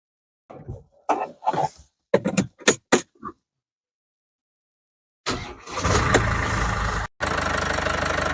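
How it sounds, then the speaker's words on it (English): A few quiet words, then a cold diesel engine cranks and starts, settling into a rough, knocking idle that runs on loudly and close by. "sounds just like a cold diesel engine"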